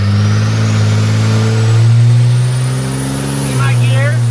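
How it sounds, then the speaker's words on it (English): A truck engine loads up on a dynamometer, a steady mid-pitched drone with rising harmonics that swells, dips briefly near the end and picks back up, loud and close. "All right, so you can hear it loading."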